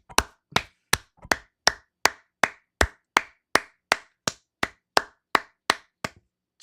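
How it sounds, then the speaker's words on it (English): Steady, evenly spaced hand claps, about sixteen sharp smacks over several seconds, close and crisp with no talking. "Clap it up."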